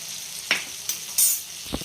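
Cumin seeds dropped into hot oil in a pan, giving a steady sizzle with a few short bursts of louder crackle and spatter, close and with no voices.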